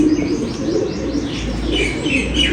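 A rooftop pigeon, a young bird of a prized flying line, coos softly amid a steady wash of chirping birds, continuous and close.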